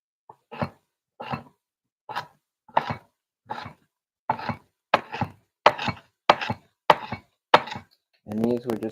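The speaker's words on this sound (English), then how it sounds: "And these we're just kind of dicing." A knife dices vegetables on a cutting board for plant-based taco filling and tortilla soup: a steady series of about fourteen crisp, close chops, evenly spaced at first and then coming faster, with no voices.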